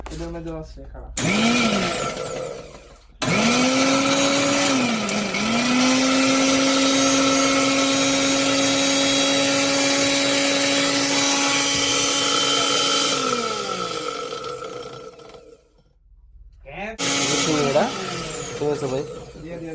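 An electric blender machine whirs loudly and close, spinning up with a rising pitch and holding a steady high whine for about ten seconds before winding down, with brief starts around it and voices talking near the beginning and end.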